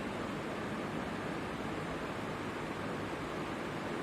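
Tsunami-scale ocean waves surge in a continuous, dense roar of broadband water noise, steady and loud throughout with no pauses.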